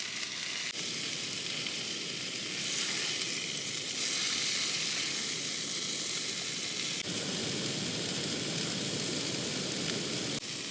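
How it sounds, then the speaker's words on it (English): Potatoes sizzle loudly and steadily in a hot pan, a dense crackling hiss that swells briefly and keeps going without pause. "so I'm just pan frying them"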